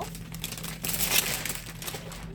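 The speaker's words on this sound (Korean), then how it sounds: "우리가 또 OPP 비닐 하나를 위에다가 올려주세요." Thin OPP plastic film crinkles and rustles as it is laid over a pot while making a kokedama moss ball, with a steady run of soft crackles that swell briefly in the middle, close and fairly quiet.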